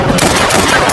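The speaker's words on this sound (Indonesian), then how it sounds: "tembak-tembakan." Loud, dense gunfire rattles in a burst of rapid overlapping shots as mercenaries ambush a man getting into a car in a film action scene, filling the short moment with sharp cracks.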